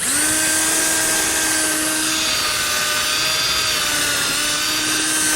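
Wire brush on a tool scrubbing old grime off stock Chevy 4.3 cylinder heads, a steady high whine with shifting pitch, loud and close, running alone throughout.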